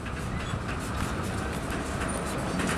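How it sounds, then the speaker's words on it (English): Freight train cars roll past close by in a continuous loud rumble, with steady clickety-clack wheel beats and rattling couplings running through the whole stretch. "Where are this train's going once he's all assembled?"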